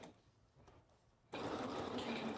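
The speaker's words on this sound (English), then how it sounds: "And then I'm back stitching at the top." A sewing machine back stitches at the top of a seam on a dress, starting abruptly after a quiet moment and then running in a close, steady whir.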